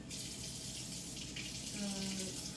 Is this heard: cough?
no